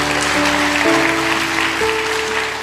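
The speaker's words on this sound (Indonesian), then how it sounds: "Tepuk tangan dong" Applause from a church congregation during a sermon, a steady wash of clapping with a faint sustained organ or keyboard tone underneath.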